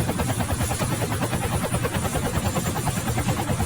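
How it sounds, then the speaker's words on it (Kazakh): A helicopter in the Roblox video game keeps up a steady, fast rotor chop with an engine drone underneath, loud and continuous throughout, with no talk over it. "Ал вертолеттен түшіп барады."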